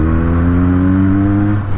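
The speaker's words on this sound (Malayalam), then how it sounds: "സ്റ്റോക്ക് സൗണ്ട് തന്നെ, അധികം ഓവറും അല്ല, നല്ല സ്മൂത്തായിട്ട് പോകുന്ന സൗണ്ടാണ്" Benelli 302 motorcycle on its stock exhaust, accelerating with a steady, smooth engine drone that rises in pitch, loud and close, alone without talk.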